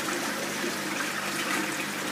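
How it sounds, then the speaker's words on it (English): Water gushes steadily into a DIY foam fractionator fitted inside a barrel biological filter for a koi pond, a close, continuous splashing flow without pauses. "The incoming water goes straight inside the fractionator."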